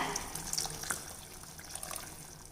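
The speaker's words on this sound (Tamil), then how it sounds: "இப்போ இதுலேயே நம்ம சுண்டல் வேக வச்ச தண்ணி சேர்த்துடலாங்க" Chickpea cooking water poured into a kadala curry in a home kitchen, a faint, soft splashing trickle with small bright drips, heard close and alone.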